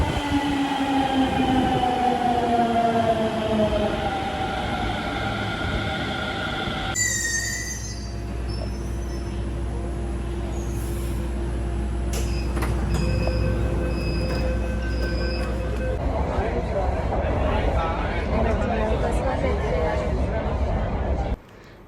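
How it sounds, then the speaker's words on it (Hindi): A Mumbai metro train pulls into the station with loud rumbling and a long, high wheel squeal, then brakes to a halt and idles. Someone speaks over the noise. "metro is coming"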